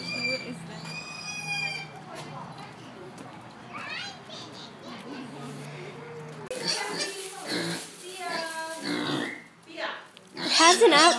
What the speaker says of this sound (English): Oh, the pig is following her.